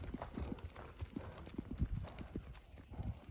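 A horse of the Dakan line is walked, its hooves giving steady, close clip-clops at a walking rhythm, with faint voices in the background.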